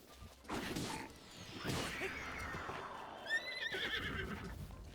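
A horse neighs and whinnies in The Legend of Zelda: Breath of the Wild, a loud, drawn-out call rising over game sounds, with hoof clatter and a sharp impact around it.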